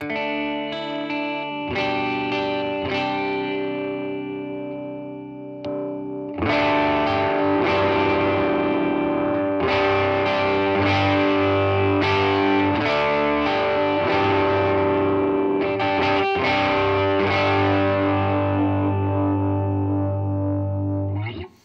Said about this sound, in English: This is a transparent overdrive.